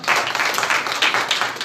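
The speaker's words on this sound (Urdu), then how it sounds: "کے لیے زوردار تالیاں۔" A sermon audience gives loud, enthusiastic applause for a man who answered a question, a close, dense burst of rapid hand clapping that fills the short moment with no talking over it.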